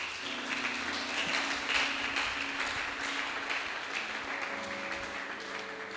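A church congregation applauding the Lord during a French-language service, sustained dense clapping from many people in a reverberant hall, steady and moderately loud.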